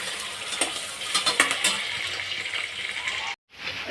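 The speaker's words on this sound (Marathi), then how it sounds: "कांदा आणि मिरची भाजताना हाय फ्लेम ठेवून कांदा भाजावा कांदा लालसर होईपर्यंत तळायचा आहे" Onion and green chili fry on a high flame in a pan for chicken biryani, with a bright steady sizzle and a few stirring scrapes before a brief cut to silence near the end.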